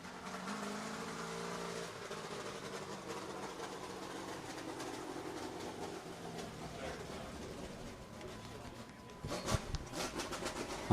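A street stock race car engine drones steadily as it drives onto the speedway at a Street Stock Nationals event, with a broad roar that builds slightly near the end.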